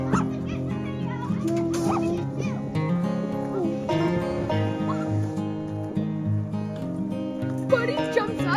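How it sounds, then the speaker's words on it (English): Two dogs playing together in a backfield on a homestead yip, whimper and bark playfully in short bursts over a busy, continuous background. "neighbor dog came over to play in the backfield with our dog, and they were having a great time"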